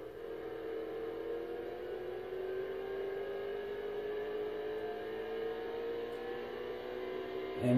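A race car engine in a racing video game drones and climbs steadily in pitch as it accelerates off the start, a smooth sustained whine at moderate level with a brief louder burst at the very end.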